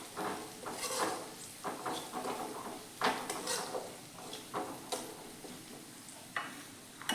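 Spoon scraping and stirring turmeric and Kashmiri red chili powder through oil in a pan, with soft sizzling and irregular clinks against the metal, fairly quiet and close, no voices.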